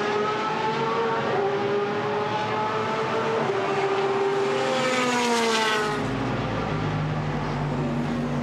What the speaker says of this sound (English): Here's the 666 Squadra Corsa Ferrari for Yoshiki Omura.